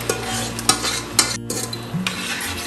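Blended spinach gets stirred in a pan as it fries, with a spoon scraping and clinking against the metal in quick irregular strokes over a soft background sizzle, close and with no voices.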